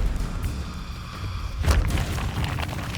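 Incendio fire spell cast in Hogwarts Legacy, a deep booming burst of flame that swells partway through over continuous rumbling combat noise.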